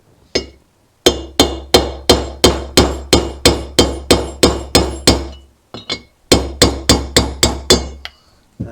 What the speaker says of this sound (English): I've got a socket that just fits inside the needle roller bearing.